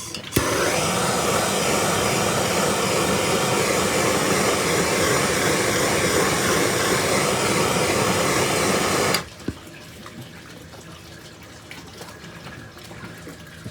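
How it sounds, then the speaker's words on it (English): A torch heating a plastic bucket to fit a drain line, a loud, steady roaring hiss held close for about nine seconds, then cut off abruptly, leaving a quiet room with a few faint knocks. "Now I take the torch and I'm going to heat the bucket up"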